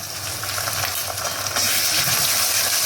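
Ginger and chili paste sauté in a hot pan, a dense, even sizzle close by with faint scraping stirs, growing slightly louder partway through, with no voices.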